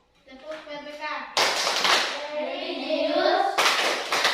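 Schoolchildren in a classroom chanting together while clapping in rhythm, a loud group chant with bursts of hand claps building and cutting in sharply, voices dominating throughout.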